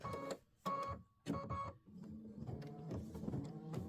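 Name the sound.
Aveneer embroidery machine stitching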